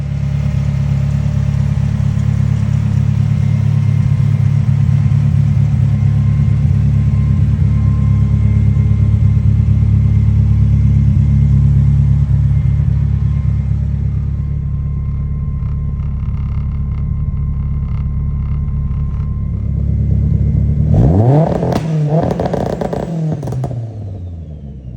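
A 600-plus horsepower Mitsubishi Evo 5 engine runs on a dyno, holding a loud steady drone for a long stretch, easing down, then revving up sharply near the end.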